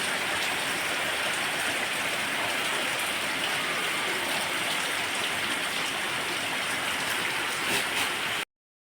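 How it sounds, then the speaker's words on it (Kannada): Heavy monsoon rain pours down steadily, a dense, even hiss with no pauses for the full length. No voices are heard. "ಮಳೆ ಸಹ ಬರ್ತಾ ಉಂಟು ನೋಡಿ, ಜೋರು ಮಳೆ."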